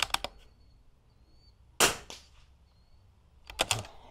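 Rifle shots at an NRL22 .22 rimfire shooting match ring out as several sharp, short cracks: a quick pair at the start, a single louder shot midway, then another close cluster at the end, with quiet between.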